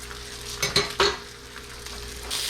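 Pork chops frying in a pan give a steady soft sizzle, broken by a few sharp clinks of a utensil against the pan.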